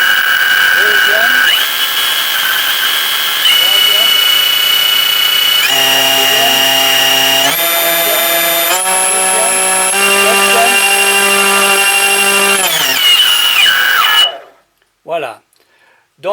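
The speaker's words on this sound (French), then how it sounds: "Donc vous remarquerez que les moteurs tournent un dans un sens, un dans l'autre." Electric motors of an RC Runabout Comtesse model boat whine steadily, climbing in pitch in distinct steps as the throttle is raised notch by notch, loud and close before cutting off abruptly near the end.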